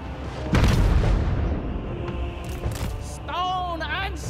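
Crane Gunners artillery firing in the video game Total War Warhammer 3, with one heavy booming shot followed by a rumbling tail, while game voice lines are heard afterward.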